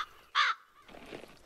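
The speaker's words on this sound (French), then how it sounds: "pourvu que Calypso ne soit pas gêné par le croassement du corbeau" One loud, harsh crow caw rings out, followed by faint rustling background sound, in an animated horse ranch scene.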